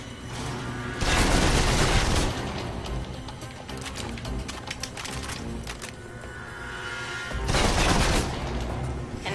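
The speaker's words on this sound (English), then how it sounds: "If you're trapped in close quarters with multiple opponents, the SMGs can help clear the room quickly." Submachine gun fire in the Alpha Protocol video game, with dense rapid bursts sounding loud and close, a heavy volley early on, scattered shots through the middle, and another sustained burst near the end.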